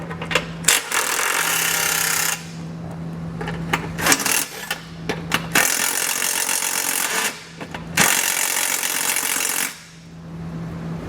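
Stripped 13mm skid plate bolts on a 2021 Jeep meet a power tool in loud, rattling impact bursts of a few seconds each, separated by short pauses, close up and without talk.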